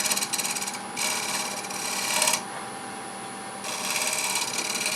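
Wood turning on a lathe, finishing cuts with a negative rake scraper on a wooden yarn bowl: a steady hum with bursts of hissing, rasping cutting that start and stop in sections, fairly close.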